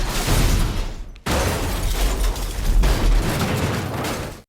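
Sustained, dense gunfire from a film shootout with a pistol, loud, continuous bursts and booms with a brief cut partway through.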